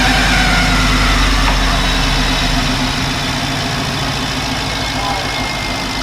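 A Toyota FJ45 rock crawler's engine idles steadily and loudly up close, a constant low rumble with a fairly even tone throughout.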